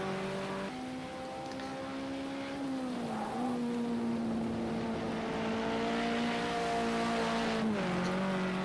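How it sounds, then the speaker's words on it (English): A BMW race car in the Project CARS 2 racing game holds a steady, close engine drone that dips and recovers at a couple of gear changes, with light tire noise beneath. "But you're watching some skillful driving from Matt Jackson in the BMW"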